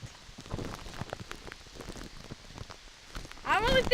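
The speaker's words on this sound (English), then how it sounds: "See, it's really raining hard." Heavy rain pelts a tent during Hurricane Irene in August 2011, a dense, close patter of drops with scattered louder hits, and a voice breaks in briefly at the end.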